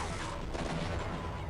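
Repeated gauss cannon shots from the Half-Life video game, a dense, loud burst of crackling weapon fire with no gaps, filling the whole moment.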